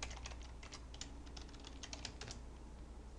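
Numbers are keyed on a computer keyboard in quick bursts of soft, close clicks, with brief pauses between clusters of keystrokes and no talking.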